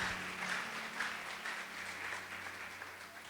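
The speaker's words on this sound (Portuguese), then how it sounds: "Você pode mais uma vez aplaudir o Senhor pela sua palavra?" A church congregation claps steadily, a dense wash of applause that holds at an even level throughout, with a low hum underneath.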